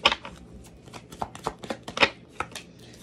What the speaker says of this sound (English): Let's get three cards.